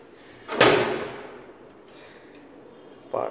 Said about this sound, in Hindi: पार्थ ने दरवाजा खोल दिया